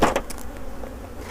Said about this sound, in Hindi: बॉक्स जो मक्खियों से वो लगभग फुल है, भरा हुआ है।